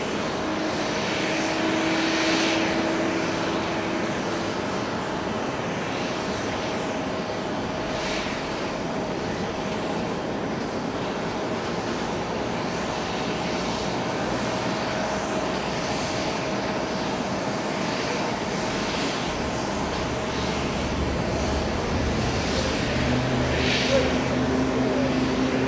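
Engines of a Japan Airlines Boeing 787-8 rumble and hiss steadily at Haneda airport, a loud, sustained roar with a faint tonal whine that rises briefly near the start and again near the end.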